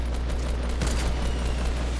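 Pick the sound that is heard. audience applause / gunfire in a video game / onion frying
gunfire in a video game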